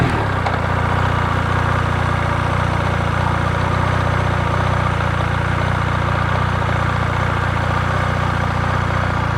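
A motorcycle engine idles at slow speed with the throttle closed during low-speed riding practice, giving a loud, even, continuous drone with no pauses.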